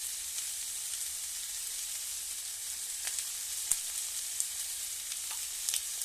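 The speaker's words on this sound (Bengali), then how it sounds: "এবার সবজিটা কষা হতে থাক।" Raw vegetables sautéing in a pan, a steady soft sizzle and frying hiss throughout, with occasional louder pops and crackles standing out.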